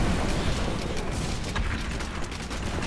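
An explosion in the action role-playing game Diablo III: Reaper of Souls gives a dense, sustained roar of rumbling noise that fills the whole moment at steady loudness.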